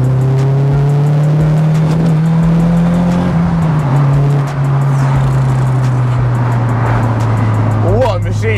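A Nissan S15 Silvia's engine pulls hard and loud from inside the cabin, holding a strong, steady drone that climbs and eases through the revs, with talk over it.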